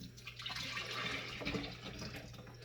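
Juice is poured into a large pitcher during late-night juicing, a quiet, continuous liquid splashing stream that lasts a few seconds with no voices.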